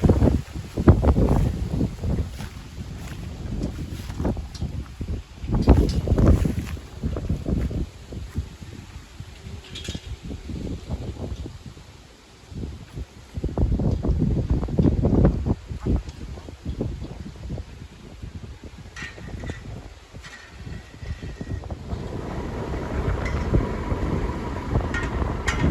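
Strong gusting wind sweeping across an open rice field in rural Sisaket, Thailand, roaring and buffeting the microphone in loud rolling surges that rise and fall over time.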